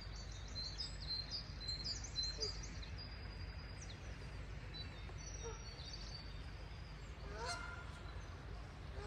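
Several geese honk in short nasal bursts from a distance at a lake, over a steady outdoor hum with a few faint bird chirps.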